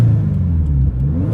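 A Subaru WRX GC8 with an EJ20 flat-four engine rumbles and revs close by, a loud, steady low-pitched drone that dips briefly and builds again.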